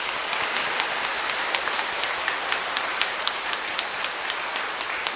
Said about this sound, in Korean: 우리 그래도 환영하는 의미에서 인사하고 박수할게요